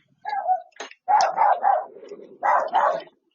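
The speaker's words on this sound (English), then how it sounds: "that's my dog roaring her head off" A dog barks loudly and close by in bursts: one bark, then a quick cluster of three or four, then two more, all harsh and full-throated with short silences between.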